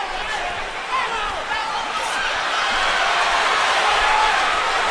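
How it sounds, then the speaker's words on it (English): Boxing arena crowd at a Manny Pacquiao vs Timothy Bradley fight chanting Bradley, a dense roaring mass of voices that swells steadily, with a commentator talking over it. "the crowd is chanting Bradley"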